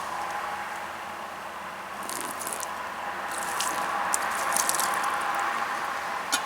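Water poured from a container onto a tarp half-shelter outdoors, a steady wet splash and patter that begins after a quiet stretch and grows louder and busier toward the end, with no talk over it.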